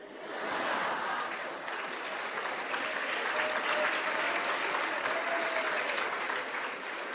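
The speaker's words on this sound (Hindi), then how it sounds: "जिस पे ताली नहीं बजानी चाहिए उस पे ताली बजाते हैं।" Sustained audience applause fills a lecture hall on the influence of advertising, a dense, steady wash of many hands clapping at once that holds loud and even for about seven seconds with no talk over it.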